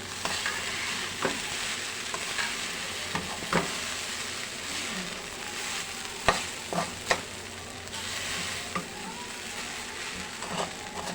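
A home-cooked breakfast sizzles steadily in a pan while a utensil stirs it, leaving scattered scrapes and taps over the constant, moderately quiet frying hiss.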